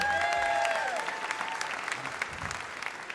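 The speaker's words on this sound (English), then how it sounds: "Let's get another round of applause for Pat, everyone." An audience at a comedy fundraiser applauds for a performer, a dense, steady wash of clapping, with a brief whistle or cheer near the start.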